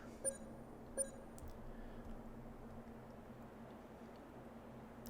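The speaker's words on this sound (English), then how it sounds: "So that notification noises that I hear sometimes." A short electronic notification beep from the Farming Simulator 22 video game, sounding twice in quick succession near the start over a low, steady background hum.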